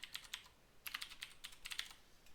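Typing on a computer keyboard while entering a part number in Altium component-library software: quick bursts of crisp key clicks in irregular clusters, close and fairly quiet, with no talking.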